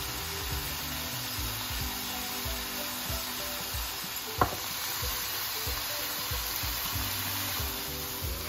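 Keema mince with peas fries in a pan, a steady close sizzle with rhythmic scraping as it is stirred and one sharp knock of the utensil midway, no talking.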